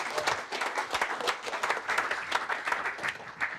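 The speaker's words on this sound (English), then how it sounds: "I think a special round of applause for Paul" An indoor audience at a TR Register car club Sunday session breaks into sustained applause, with dense, even clapping from many hands throughout and no talking over it.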